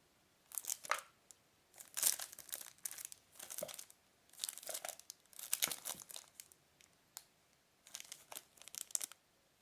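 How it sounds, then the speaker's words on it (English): Crinkly plastic wrapper being pulled off a small RFID blocking card holder box, close-up bursts of crackling in uneven clusters separated by brief pauses. "So we do that by, of course, removing the outer plastic packet or wrapper"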